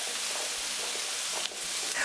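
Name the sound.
courgette sautéing in a large pan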